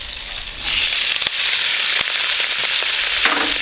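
Boiled fiddleheads hitting hot fat in a pan with thyme, a loud close sizzle that surges when they go in and keeps crackling steadily, with a few sharp pops.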